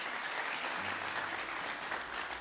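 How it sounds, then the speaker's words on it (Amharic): Congregation applauding Sunday school students on a church recognition day, an even, continuous wash of many hands clapping with a faint low hum beneath. "አጨብጭቡላቸው።"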